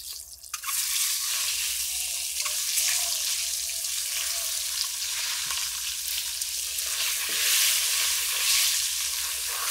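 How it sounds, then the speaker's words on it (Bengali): Eggs frying in hot oil seasoned with turmeric and salt give a steady, loud sizzle that runs the whole time, with faint scraping and stirring now and then and no voices. "এবারে ডিমগুলোকে দিয়ে ভেজে নেব।"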